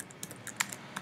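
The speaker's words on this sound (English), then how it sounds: "you can do that by typing the command npm install Cordova" Typing a command on a computer keyboard, a quick run of light, crisp key clicks in an uneven rhythm, close and fairly quiet.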